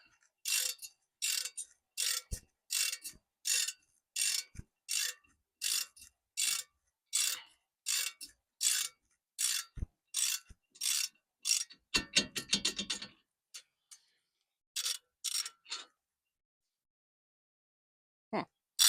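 A ratchet wrench turns a bolt on a Jeep Cherokee beside the brake caliper, giving close, steady bursts of rapid clicking in a regular back-and-forth rhythm, with no talk.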